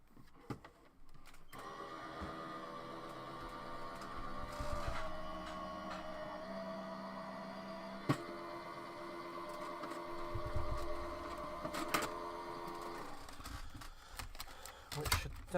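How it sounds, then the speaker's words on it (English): An electric die cutting machine pulls a cutting sandwich holding a circle die through its rollers, giving a steady mechanical whir and hum with a few clicks and thumps. A brief voice is heard at the start. "I'm just going to pop that into my cutting sandwich and run it through the machine"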